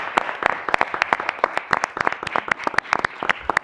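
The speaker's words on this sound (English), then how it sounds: "So let's give her a round of applause." An audience at a county board meeting gives a round of applause for Oakland County's Miss America 2023 contestant. Brisk, crisp claps from a modest crowd sound close and steady throughout, with no talking.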